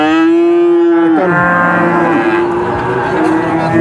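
Cattle bred for fattening low loudly at a cattle market in Purwantoro, one long close moo sliding down in pitch into a second, rougher bellow.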